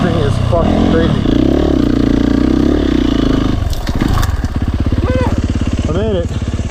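Close up, a Yamaha YZ250FX dirt bike engine holds a steady, buzzing throttle, then drops to a choppy, pulsing lower note with a couple of brief revs. A rider talks over the engine.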